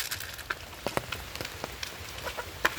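Rain falling on a surface outdoors on a morning, steady hiss with scattered sharp drip taps, close and moderate in level, with no voices.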